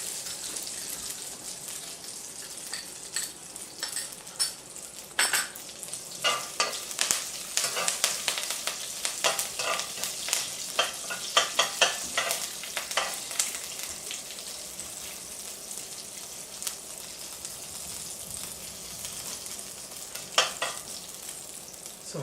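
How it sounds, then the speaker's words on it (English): Mustard seeds spluttering in hot oil, then red onions and coconut frying in a pan for Kerala-style koottucurry, giving a steady hiss with crackles and pops that rise, thicken and slowly settle. "once the mustard splutters, then you add the red onions and the coconut"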